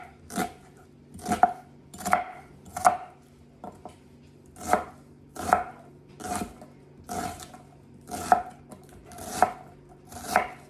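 A knife chops finely through red onions on a cutting board in a home kitchen, roughly a dozen sharp, evenly spaced strokes coming in small bursts, up close and alone with no talk.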